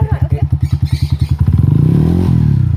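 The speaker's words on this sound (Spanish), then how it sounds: "Primero el pase a la llave, Ramón." A motorcycle engine chugs in a steady, loud thumping rhythm up close, then the beats speed up and blur into a continuous rising rev.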